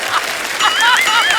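A voice imitates an anar fountain firecracker with a hissing, whooshing spray and rising whistly tones, close and loud, heard amid noise from a lively studio audience on a comedy show.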